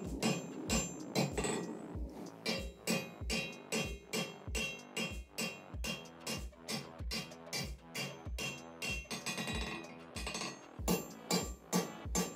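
A hammer rings on hot steel on an anvil while a hook rack is forged, striking in a fast, steady rhythm of loud metallic blows that runs the whole length, each hit followed by a short ring.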